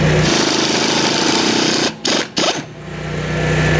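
A 1/2-inch air impact wrench hammers continuously and loudly at close range on a brush cutter blade nut, drops out briefly, gives a short burst, then resumes running until the end.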